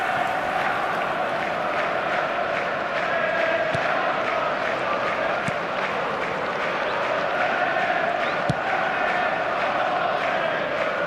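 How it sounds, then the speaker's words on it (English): Stadium crowd noise in an eFootball simulation of Manchester City versus Chelsea, a steady loud roar of cheering and applause swelling after a near miss, continuous throughout with no clear break. "The crowd reaction tells you just how close that was"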